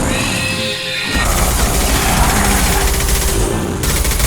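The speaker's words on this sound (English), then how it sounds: "Firing a high impact shot." A high-impact gunshot in Mass Effect 2 Legendary Edition, heard as a loud, dense burst of gunfire that crashes in after a brief hum and keeps roaring, with a sharp flare toward the end.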